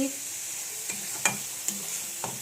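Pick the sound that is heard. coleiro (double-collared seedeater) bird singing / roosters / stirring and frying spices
stirring and frying spices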